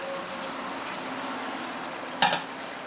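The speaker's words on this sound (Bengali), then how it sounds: "এবারে এর মধ্যে আমি ভেজে রাখা আলুগুলো দিয়ে দিলাম" Fried potatoes are stir-fried in a spice masala, giving a continuous dense sizzle with one sharp clatter of the spoon near the end and no voices.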